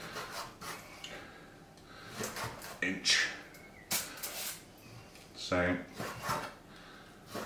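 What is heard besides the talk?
cutting smoked beef chuck into inch cubes with sharp knife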